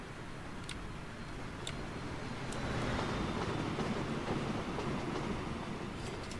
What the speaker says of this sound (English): that looked like a train who knew where it was going